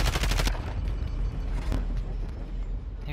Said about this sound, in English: Someone's shooting us.